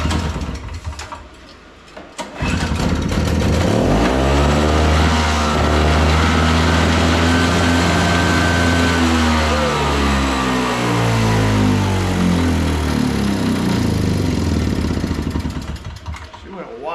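An old Craftsman two-stroke snow blower engine sputters briefly, then catches and runs loud and close, its buzzing note rising and falling as the throttle opens and settles before dropping off at the end.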